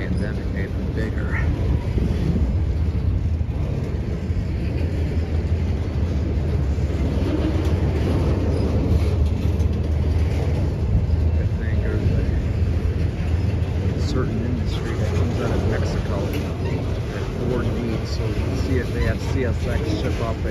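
A long CSX freight train rumbles past in Southeast Michigan, a continuous loud low rolling drone with wheel and wind noise, steady for the whole stretch.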